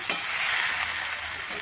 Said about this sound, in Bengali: মশলাটা ভালোভাবে ভাজা হয়ে গেছে। তেলের সাথে